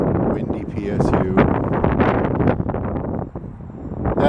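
Wind buffeting a microphone outdoors in downtown Portland, Oregon, near PSU: loud, low rumbling gusts that rise and fall across the clip, with a person talking beneath the blowing.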